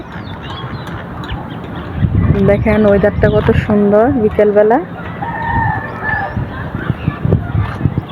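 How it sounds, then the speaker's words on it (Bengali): Birds call around a rooftop on a fine afternoon, led by a loud, drawn-out rooster-like crowing in the middle, with a few fainter calls afterwards; a person talks over much of it. "দেখেন পাখিরা সব ছাদের মধ্যে আকাশে উড়ে বেড়াচ্ছে, এখানে সেখানে কিচিরমিচির করে ডাকছে"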